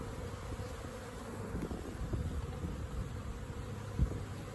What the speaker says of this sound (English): All these bees are going to the other hive here beside it.